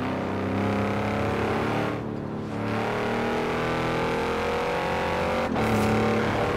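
Max-tuned Lamborghini Urus in the video game Forza Horizon 4, its engine roaring steadily with a loud harmonic drone, briefly dipping around two seconds and again near five and a half seconds as it shifts, no talk.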